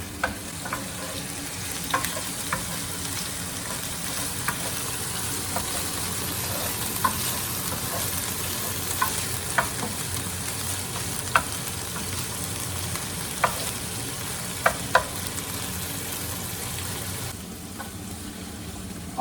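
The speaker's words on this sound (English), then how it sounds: "And you can hear the sizzle straight away." Garlic sizzles and fries in a pan for spaghetti, a continuous crackling hiss with scattered sharp pops and spits throughout, close and moderately loud.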